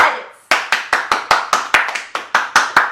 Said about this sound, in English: Can we please clap for this person?